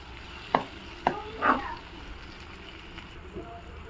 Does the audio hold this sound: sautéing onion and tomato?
yes